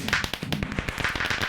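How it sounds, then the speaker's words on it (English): Fireworks pop in a modded Minecraft world as a rapid, irregular string of sharp crackling bursts, dense and fairly loud, with no voice over them. "fireworks going off in here"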